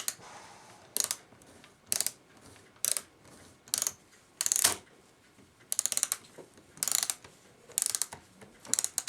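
Repeated bursts of ratcheting clicks as an antique Sessions kitchen clock mainspring is wound with a let-down tool, coming in short regular spurts about once a second, close and crisp, with no voices.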